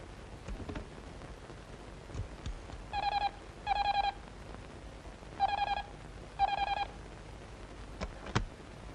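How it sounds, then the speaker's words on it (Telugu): Telephone keypad dialing: four short bursts of rapid beeping tones in two pairs, clear and close over a quiet indoor room with faint rain-like hiss. "ఒకసారి ఫోన్ చేసుకోవాలి"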